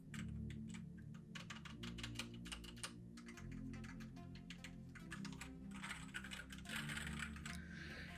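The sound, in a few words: light taps on E-YOOSO Z-19 mechanical gaming keyboard keys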